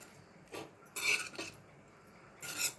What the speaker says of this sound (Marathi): मस्त आपले पोहे झालेले आहेत। आता आपण याला ढवळून घेऊया।